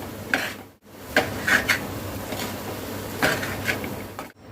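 Samosa stuffing with coriander being mixed in a pan, with a few scattered metallic clinks and scrapes of a spoon against the pan amid quiet background hiss.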